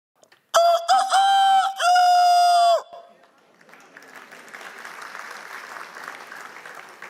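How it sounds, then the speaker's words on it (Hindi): Rooster crowing loudly and close, one long drawn-out call with a wavering break partway, followed by a steady background of applause and crowd noise. "किसी मुर्गे ने बांग दी।"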